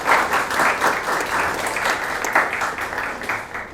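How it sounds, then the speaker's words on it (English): A hall audience at a youth sustainability dialogue breaks into sustained applause welcoming a guest, loud and dense clapping that continues evenly with slight swells throughout. "Let's welcome him with a big round of applause."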